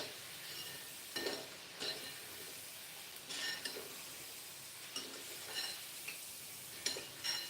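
Crispy french fries going back into hot oil for a second fry: a quiet, steady sizzle with a few soft stirring clinks and scrapes at irregular intervals, no voices.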